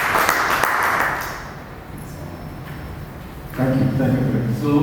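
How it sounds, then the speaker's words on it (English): An audience claps for a guest at a photojournalism talk, a steady wash of applause that dips in the middle and then swells again. "once again, with a great round of applause"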